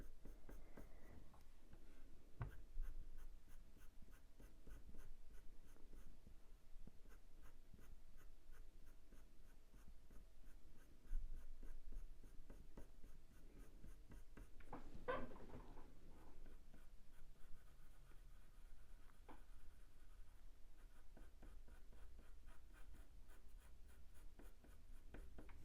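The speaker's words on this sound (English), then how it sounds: "do some short lines with the pencil" Graphite pencil making short, stubby strokes on paper while shading the fur of a ginger tom cat, a steady close scratching rhythm that runs throughout, with a slightly louder stroke midway.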